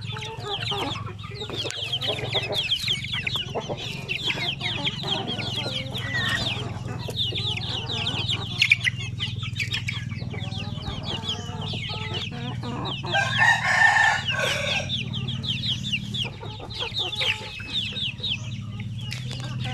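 Chickens clucking and crowing steadily inside shipping crates for transport from Bukidnon to Batangas City, a dense continuous flock chorus with a louder burst of crowing partway through, fairly close and without talk.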